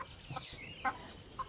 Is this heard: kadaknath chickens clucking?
yes